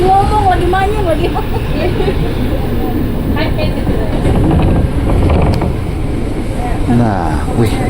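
Commuter train speeding toward Manggarai station in Jakarta, rumbling with steady wheel and track clatter and mechanical rattles close inside the carriage, with a voice talking over it.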